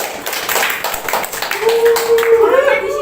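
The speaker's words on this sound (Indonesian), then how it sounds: "Tepuk tangannya." A small group claps during a podcast recording, a steady patter of hands heard close, with a voice briefly humming or speaking over the end.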